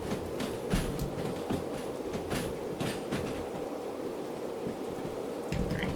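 Freight train in the Derail Valley simulator game rolling along the track, a steady close rumble with rhythmic clicks and clacks from the wheels passing rail joints, heard alone with no voices.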